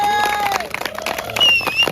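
Audience applause and cheering at a Chhattisgarhi stage gathering (a Milan Samaroh with CG stars), a dense wash of clapping with a crowd roar, mixed with tonal music and a few voices over about two seconds.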